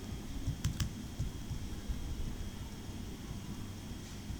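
Keys on a computer keyboard clatter as a spreadsheet formula is typed, a few sharp clicks standing out near the start over a faint, steady room hiss.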